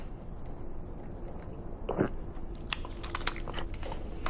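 People chew food at a dinner table: a crunchy bite stands out, followed by a scatter of soft, quiet crunching and mouth noises against a low room hum.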